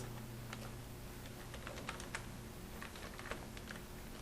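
Computer keyboard typing during spreadsheet-style data entry, a quiet, steady run of light key clicks in irregular bursts over a low constant hum, with no one talking.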